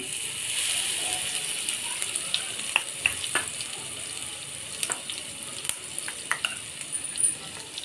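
Garlic and chili paste fries in a pan, giving a steady soft sizzle with scattered clicks and scrapes from stirring, close and fairly quiet, with no talk.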